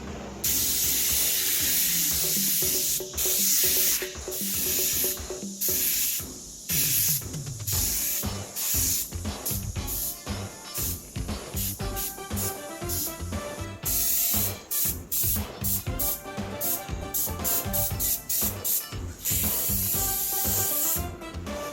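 Airbrush spraying green paint thinned with Windex onto a 3D printed 1990s movie Donatello head, loud close hissing in repeated bursts of varying length separated by short pauses, no talking.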